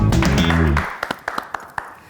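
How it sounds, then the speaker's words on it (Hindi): A few scattered, distinct claps from the audience at a comedy show, welcoming the next contestant to the stage. They ring out in a loose, uneven rhythm right after a host's voice fades. "अगले कंटेस्टेंट को बुलाते हैं आप सबकी प्यार भरी जोरदार तालियों के साथ"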